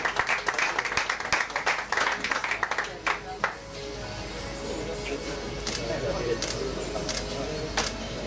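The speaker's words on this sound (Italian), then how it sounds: "Un grosso applauso per la Vigor Cisterna" Audience applause at a futsal awards ceremony, loud dense clapping for the first three seconds, then thinning into scattered claps over crowd murmur and a voice speaking.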